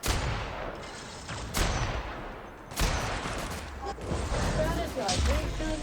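Bursts of gunfire from The Outer Worlds video game crack and roll in loud repeated volleys, with heavy booms and dense noise filling the clip and occasional electronic tones between shots.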